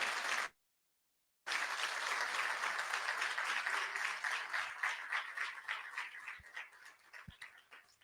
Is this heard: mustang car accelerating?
no